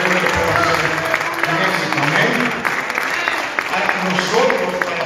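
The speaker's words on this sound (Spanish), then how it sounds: "Damos un aplauso al Señor" A church congregation claps together, a steady crowded patter of hands filling the room, with voices and some music running underneath.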